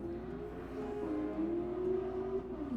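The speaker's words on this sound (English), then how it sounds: "I don't know if you guys heard the car" A car passes by outside, its engine hum rising and falling gently as it drives past at a distance, fairly faint and alone with no talking.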